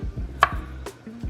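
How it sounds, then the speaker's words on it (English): A knife chops through food on a cutting board during Thanksgiving cooking at home, giving several sharp, close thuds at a steady pace with one brighter crisp cut in between. "Can I cut this one in half?"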